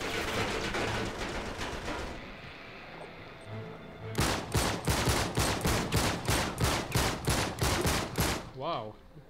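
Rapid automatic gunfire rattles in Uncharted 3: Drake's Deception during a sea-set chapter, long bursts of loud repeated shots with a brief lull before a second sustained volley.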